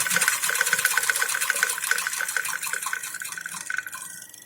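An embroidery sewing machine runs steadily while stitching fabric held in an embroidery frame, a loud, fast, even mechanical whir and patter that slows slightly near the end, with no voices.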